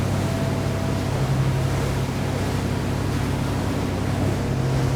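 A Fjord 39XL motorboat on inboard motors runs on the plane at about 15 knots, giving a constant loud engine drone mixed with rushing water and wind noise, with no voices.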